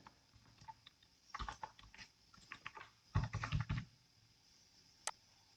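Keys clatter on a computer keyboard as a saved password is entered, in two short clustered runs of close, clear taps, then one lone click near the end, with no voices.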